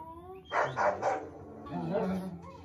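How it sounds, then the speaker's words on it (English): A hungry dog in the Star Wars animated series Tales of the Jedi gives a few close, sharp barks, then a lower whining yelp, with voices alongside. "Oh, the poor hungry dog."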